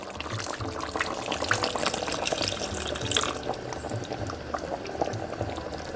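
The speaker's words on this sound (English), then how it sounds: "Our pork has been stewing for 15 minutes." A pot of Jamaican brown stew pork bubbling on a stovetop at medium-low heat, a continuous close simmer of popping bubbles and gentle liquid gurgles with no voices.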